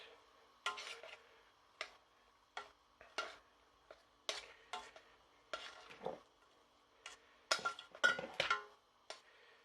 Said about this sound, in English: so that when I stir it, it comes together in a more homogeneous way